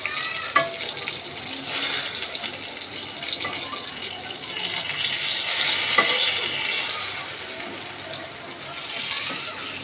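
Turmeric-coated pointed gourd pieces fry in oil in a pan, giving a steady, fairly loud sizzling hiss with a few brief scrapes and clinks as they are turned. No one speaks.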